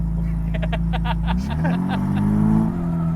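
A 2000HP Toyota Supra engine revs hard on the street toward 10,000 RPM, its pitch climbing and dropping as the throttle is worked. A few short croaky pulses sit on top of the steady roar.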